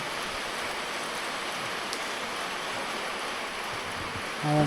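Steady rain falling at night outside a house, a dense even hiss of drops with no pauses, ending with a short louder thump.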